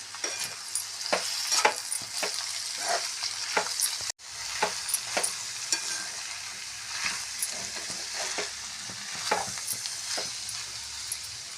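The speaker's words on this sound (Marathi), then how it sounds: "मीठ आणि कोथिंबीर आपण यामध्ये छानपैकी मिक्स करून घेऊया" Salt and coriander are stirred into a mixed vegetable bhaji in a hot pan, with repeated spatula scrapes and clacks over a gentle sizzle, close and rhythmic, with a brief break partway through.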